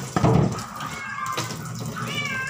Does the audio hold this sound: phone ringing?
no